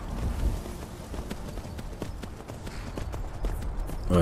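Steady clip-clop of horse hooves in Skyrim at a walking pace, fairly close and moderately loud, over a low rumbling background.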